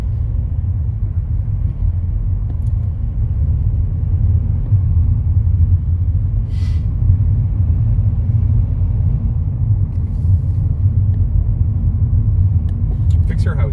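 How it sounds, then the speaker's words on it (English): A car idles and creeps through stop-and-go traffic, a loud, steady low rumble from inside the cabin lasting throughout, with a few faint clicks on top. "We're in stop and go traffic right now."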